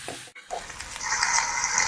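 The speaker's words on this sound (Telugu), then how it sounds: "తర్వాత అల్లం వెల్లుల్లి పేస్ట్ వేసుకొని కలపాలి." Onions, chilies and ginger-garlic paste sizzle and hiss steadily in a pan for aloo tomato curry, with a brief scrape and stir near the start and a close, moderate frying sound throughout.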